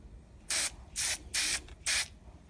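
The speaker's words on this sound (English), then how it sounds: "Always test out your cans before you start." A spray paint can nozzle is tested in four short hissing bursts, evenly spaced and fairly close, with quiet pauses between them.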